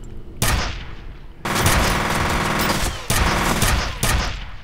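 Heavy gunfire in the horror shooter F.E.A.R. comes in loud, close bursts, separated by short pauses between sustained volleys.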